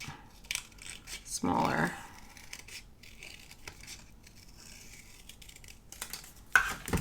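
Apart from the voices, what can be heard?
scissors cutting out paper eyes for a junk journal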